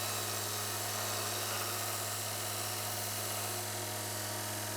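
Steady, loud whirring drone of a disc sander shaping a wooden wine glass holder, running continuously, with a constant motor hum and broadband grinding noise throughout.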